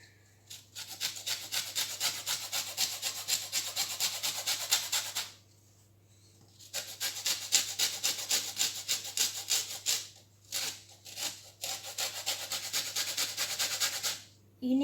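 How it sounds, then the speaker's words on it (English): Two lemons are zested for a lemon tray bake cake, producing a steady, close rasping scrape in long rhythmic passes that pause briefly between strokes, with no talk. "I am just zesting the lemon to put into the cake."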